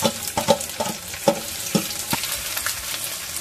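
Chopped onions dropped into hot oil with cinnamon, cardamom and bay leaves sizzle close by, with sharp crackles and spatula stirring knocks in an irregular rhythm over a steady frying hiss.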